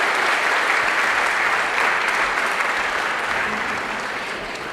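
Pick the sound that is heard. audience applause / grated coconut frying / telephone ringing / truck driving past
audience applause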